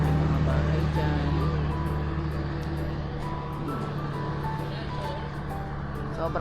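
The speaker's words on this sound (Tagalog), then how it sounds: "tunog ng mga sasakyan." Traffic on a cold, foggy mountain highway in the Benguet highlands, a steady engine drone with low rumble passing nearby while people talk over it throughout.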